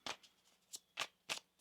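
Tarot cards being shuffled by hand, four short crisp riffling bursts spaced unevenly, close and quiet with no talking.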